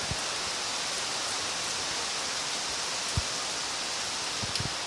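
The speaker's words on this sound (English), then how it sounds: "Looking at rain and hearing the sounds of the rain." Steady rain comes down over rural Jamaican countryside as a dense, even hiss, with a few sharp drips or taps standing out now and then; no one talks.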